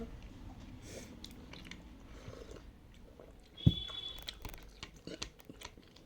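Crunchy biting and chewing of green chillies, close and fairly quiet, with a sharp crunch in the middle followed by a run of irregular chewing sounds.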